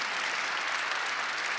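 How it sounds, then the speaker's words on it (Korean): A church congregation claps during a Sunday worship service, a dense continuous wash of applause from many hands, steady and full throughout with no voices on top. "박수 한번 주세요."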